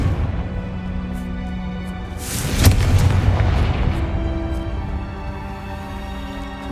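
A Confringo blasting spell in Hogwarts Legacy detonates with one deep boom that rolls off slowly over a steady background hum of game ambience, with no talking.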